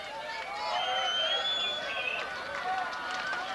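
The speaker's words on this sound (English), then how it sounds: "it's a very colorful, enthusiastic, and sellout crowd" A colorful, sellout crowd at the 1998 CONCACAF Women's Championship soccer final between Canada and Mexico makes a steady, fairly faint roar with scattered whistles, running under a commentator's voice throughout.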